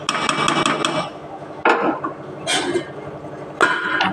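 A pot lid set back onto a karahi of cooking chicken, giving short metallic clanks and rattles in a few separate bursts, close and fairly loud, with kitchen clatter between them.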